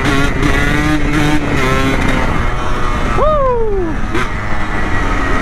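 A motorcycle engine runs loud and close, rumbling steadily, then gives one sharp rev that rises and falls, with traffic noise continuing around it and no speech.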